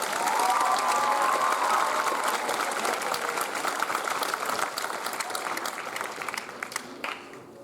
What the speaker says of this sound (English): give one more round of applause for the 6th grade band